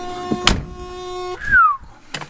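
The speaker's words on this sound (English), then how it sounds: "That's the door noise, so." The door of a 1987 Porsche Carrera 3.2 gives a few sharp clunks and latch clicks, with a steady electronic warning tone and a brief chirp sounding between them in a quiet cabin.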